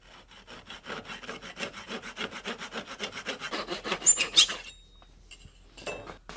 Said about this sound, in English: So I'm going to just chamfer these a little bit, and then we'll glue them in.